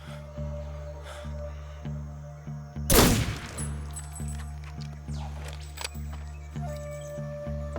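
A single loud gunshot rings out in Metal Gear Solid 3, a sharp crack with a short decaying tail over a steady in-game musical drone and light ambient effects.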